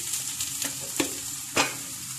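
Makki ki roti roasting slowly on a low flame, giving a soft, steady sizzle with a few faint scraping or pressing touches. No one speaks.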